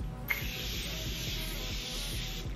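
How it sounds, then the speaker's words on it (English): A Morphe Mini Continuous Setting Spray lets out one long, even, fine mist hiss that lasts about two seconds and is heard close up with no talking. "I'm gonna go in with this Morphe Mini Continuous Setting Spray."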